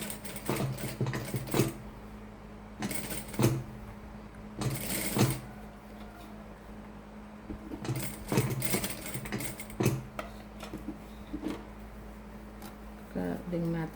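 A sewing machine stitches a curved seam on a homemade fabric tea filter bag, running in short bursts of whirring needle chatter with pauses between, close and moderately loud, while someone talks over it.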